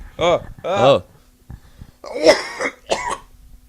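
Several harsh coughs come in bursts close to the microphone, with short quiet gaps between them.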